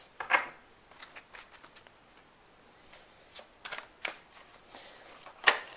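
Cards are shuffled in quick, soft riffling bursts with brief pauses between, a few sharper flicks standing out; quiet and close, no speech.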